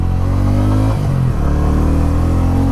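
TVS Ronin 225 motorcycle engine revving hard past 7,500 RPM, a loud, close, buzzing mid-pitched drone with a brief dip and recovery midway, continuous and alone without speech.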